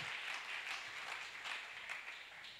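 A church congregation applauds, a faint, distant wash of many hands clapping in uneven pulsing swells.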